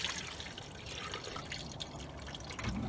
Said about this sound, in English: when I fill the bottle with the coolant, I can filtrate that coolant as well